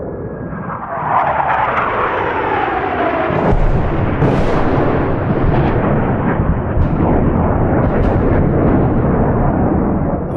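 Loud explosions from an aerial attack, used as a sound effect, with a sweeping aircraft engine roar at the start, then dense booming blasts and crackling rumble that continue steadily without speech.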